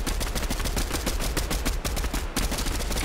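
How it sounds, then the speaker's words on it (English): Rapid, continuous gunfire in Fortnite aimed at a big rock, loud and dense bursts running almost the whole time with one brief gap near the end, no talk. "Let's shoot this big rock out here."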